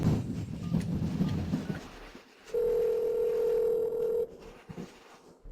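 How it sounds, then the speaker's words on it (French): One long ringback tone from an unanswered telephone call sounds clearly for under two seconds, following a brief stretch of muffled background noise and then falling away to quiet. "Ne décroche-t-il pas son téléphone?"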